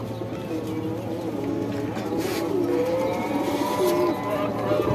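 Several Shahjahanpuri pigeons coo in low, rolling calls that overlap steadily, with some murmured voices in the background.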